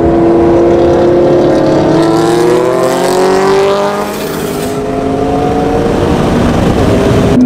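A Toyota Supra street racing, its engine revving hard and loud and close, with rising gear pulls and a brief dip before climbing again.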